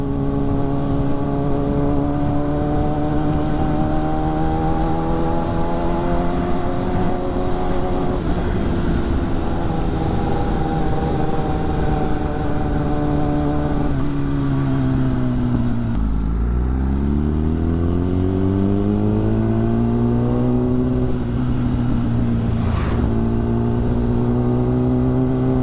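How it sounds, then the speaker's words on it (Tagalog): Steady road traffic streams past from a moving motorcycle, engines droning with slowly shifting pitch and a deep rumble swelling as a vehicle passes midway, constant and loud throughout with no talk. "traffic as usual."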